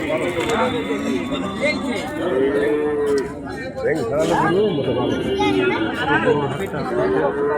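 Repeated lowing from cattle and calves rises over constant crowd babble at a cattle market in Bangladesh, with several clear moos spread through the stretch and people talking nearby.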